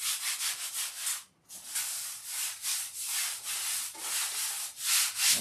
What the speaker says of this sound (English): Sounds like sandpaper, doesn't it?